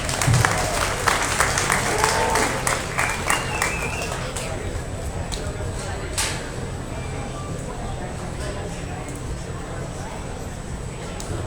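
Crowd applause at a beef cattle show, clapping that is stronger at first and then thins, heard under ongoing talk in a large, echoing venue.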